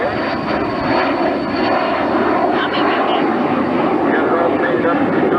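A T-33 jet with tip tanks flying past at an airshow, a steady broad engine roar holding loud and constant throughout with a little faint talk underneath.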